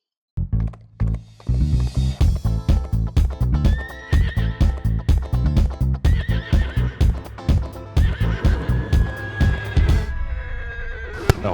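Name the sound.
horses neighing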